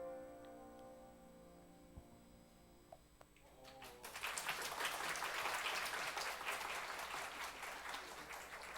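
A church congregation applauds during a Sunday worship service. Quiet ticking and a few soft sounds come first, then a burst of broad, sustained clapping fills the room and continues to the end.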